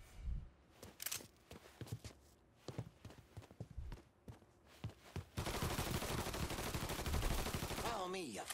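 Gunfire in the Mafia 3 video game, with sharp shots fired in a broken rhythm over about five seconds, followed by a denser, louder burst of rapid fire and noisy clatter toward the end.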